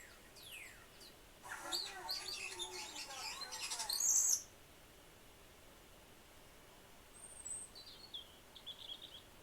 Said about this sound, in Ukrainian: можна пошукати пташок